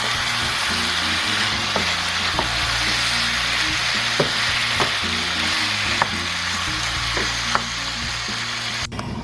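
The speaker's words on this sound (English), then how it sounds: "it's about time now for me to make a stir, so as to make sure that" Jamaican-style curried goat sizzles steadily in a very hot pot while a utensil scrapes through it in repeated stirring strokes, close and fairly loud, with no talking.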